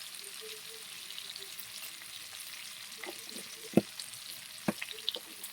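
Pointed gourd (potol) seasoned with salt and turmeric frying in oil, a low steady sizzle with a few sharp clicks and scrapes from a utensil near the end, no voices.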